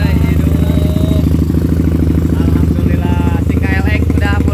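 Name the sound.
Kawasaki KLX motorcycle engine idling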